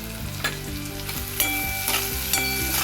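Garlic sizzles and fries in a pan for dondakai roti pachadi, a loud steady crackle broken by a few sharp stirring clinks, with no voices.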